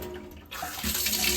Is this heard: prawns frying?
no